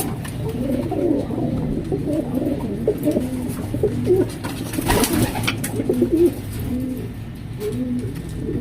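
Breeder pigeons cooing continuously nearby, overlapping throaty coos in a steady rhythm with faint rustling and chirps in the background.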